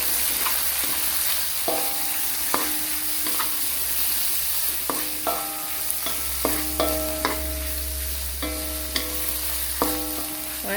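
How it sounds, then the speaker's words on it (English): Shrimp and squid stir-fried with holy basil for Thai krapao sizzle steadily in a hot pan, with repeated clanking strokes of a utensil against the wok throughout, close and fairly loud. "While it's frying now"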